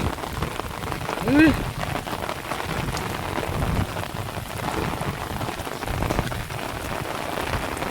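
Steady heavy rain pours down on a surface on the Mekong River, a dense continuous patter with no voices, filling the whole stretch evenly.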